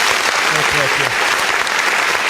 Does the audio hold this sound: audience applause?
yes